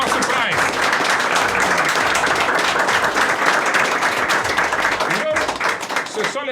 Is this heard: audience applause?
yes